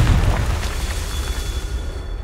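A Confringo fire spell exploding in Hogwarts Legacy, one loud deep boom at the start that rolls into a rumbling, fading tail.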